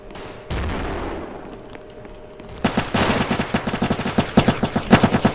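Gunfire in the Roblox game Vanguard, one sharp shot and a long fading tail, then a rapid string of loud, evenly spaced cracks building to a steady fusillade, close with no talk.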